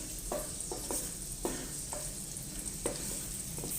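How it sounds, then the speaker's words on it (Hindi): Soft, steady sizzle of garlic frying in hot oil, with occasional light scraping stirs, close by and without talk. "लहसुन को हल्का सा फ्राई कर लेंगे।"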